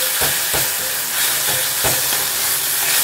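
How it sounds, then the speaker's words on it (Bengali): Onion, ginger and garlic sauté in a pan with a loud, dense sizzle and a few soft stirring knocks, close and without voices. "তো পেঁয়াজ আদা রসুন এইগুলো অনেকক্ষণ ধরেই কষানো হচ্ছে।"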